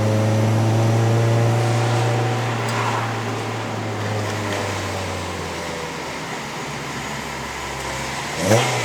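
A 2010 Honda Civic Type R FD2R on a mountain run in Malaysia pulls near 3000 rpm, its engine a steady droning hum with rising harmonics that fades slightly before a brief surge at the end, with no talking.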